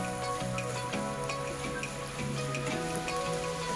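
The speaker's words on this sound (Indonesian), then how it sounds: "Kita masukkan tempenya yang udah digoreng ya. Kita aduk merata aja." Fried tempe tossed and stirred in a pan for a village-style stir-fry with bean sprouts and melinjo leaves, giving a steady close sizzle with small scraping ticks, with no talk.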